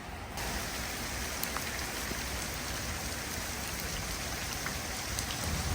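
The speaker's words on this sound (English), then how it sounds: "it just had to start raining" Steady rain falling, a dense even hiss of drops with scattered light patters, close and constant throughout with no voices.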